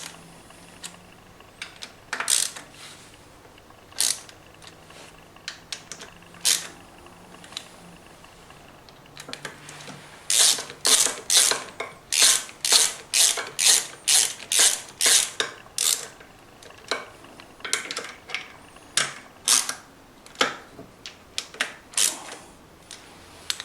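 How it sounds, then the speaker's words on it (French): Ratchet wrench tightening the clutch cable guard on a 50cc motorcycle, heard as quick close ratcheting clicks in short bursts, sparse at first and then dense, rapid runs through the middle, with no talk. "avec un cliquet"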